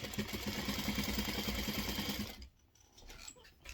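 A sewing machine stitches binding onto a quilt, running in a steady close mechanical chatter for over two seconds before stopping, followed by quieter handling sounds.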